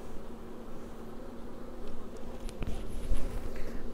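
Honeybees swarm around a beehive being worked, a dense, loud, continuous buzzing hum up close with a couple of light taps from handling, no voices.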